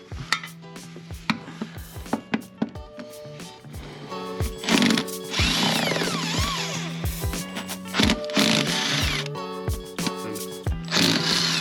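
An impact wrench works on bolts during an Audi A6 transmission mount replacement, giving loud, rapid hammering bursts with gaps between them. Sharp knocks and clanks of tools and metal come in between the bursts.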